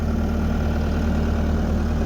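A New Holland engine runs at a steady, loud idle, a constant low rumble with an even throb and no change in speed throughout.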